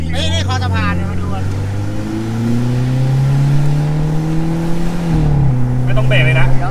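A Mercedes-Benz heard from inside the cabin while driving, a steady low engine drone that climbs gradually as it speeds up and then dips, with people chatting loudly over it throughout.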